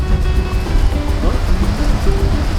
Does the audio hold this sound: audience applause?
no